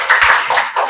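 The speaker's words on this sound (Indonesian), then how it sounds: "Tepuk tangan dulu untuk kelompok 5" A short burst of applause for a student group in a classroom, several hands clapping in quick irregular claps for under a second, close and fairly loud.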